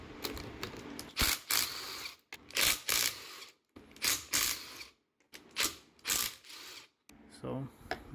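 Bursts of a power driver or ratchet spinning off 12 mm bolts from a J-series cylinder head, whirring in short uneven runs with brief pauses, close and fairly loud.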